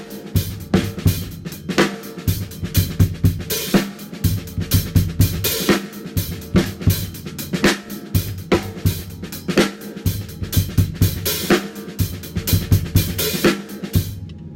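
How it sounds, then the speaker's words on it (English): A swing-style drum groove, right hand riding the hi-hat while the left hand plays the snare, with steady punchy kick and snare hits in a repeating pattern, loud and close throughout. "I have my right hand on the hi-hat and keep my left on the snare"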